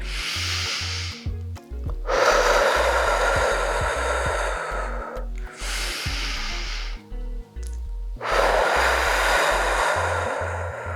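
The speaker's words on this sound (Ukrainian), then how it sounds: "наша задача робити вдих носом Видих ротом" Slow, deliberate breaths during a flat-belly and pelvic-floor workout, drawn in through the nose and pushed out through the mouth, each a long close airy rush with short pauses between.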